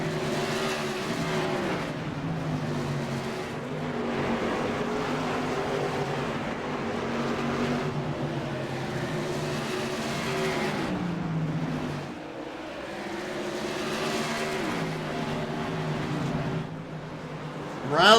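Race cars lapping the track at Oswego Speedway during a season opener, engines roaring continuously with shifting pitch as cars pass, loud and sustained with a brief dip before surging again.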